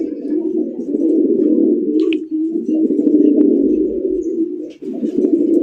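A Raj Golla pigeon cooing close by in a steady, continuous low throaty coo that runs through the whole stretch with only brief breaks, a faint chirp and small knocks in the background.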